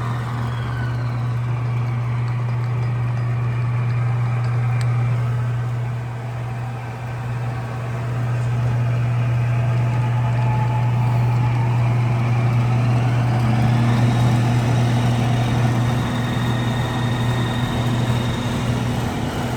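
CUT KING PTL-300 engine lathe running steadily, a continuous motor hum with a strong low drone and faint whine, close and unchanging, with a slight shift in pitch partway through.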